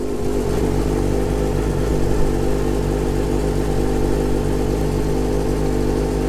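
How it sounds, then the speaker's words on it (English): A Yamaha R6 sport bike engine idles steadily after a gas tank repair, a loud, even mechanical hum holding close and constant with no voices. "So one more time, while it's running, fuel pump is pumping fuel."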